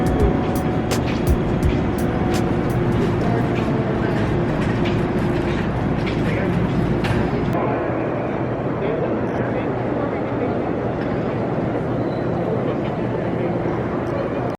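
Steady, echoing hum of the main concourse at Grand Central Terminal in New York, with crowd murmur and a low rumble throughout. Several sharp clicks come early on, and voices are heard in the mix.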